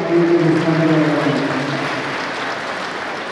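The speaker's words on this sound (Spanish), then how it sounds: "vamos a dar un fuerte aplauso a Dios Todopoderoso" Applause from the audience at a church graduation ceremony for bible-studies graduates, a steady wash of clapping that swells over a brief tonal sound at the start and then slowly fades.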